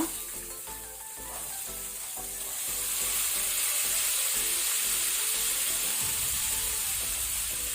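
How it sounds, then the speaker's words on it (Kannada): Strained kabuli chickpeas tip into a hot pan for a festival usli and set off a loud, steady sizzle that grows stronger after the first few seconds and keeps hissing throughout, with light stirring and no talk. "ಈಗ ನಾವು ಸ್ಟ್ರೈನ್ ಮಾಡಿಟ್ಕೊಂಡಂತ ಕಾಬುಲ್ ಕಡಲೆನ ಹಾಕೊಳ್ಳುವ"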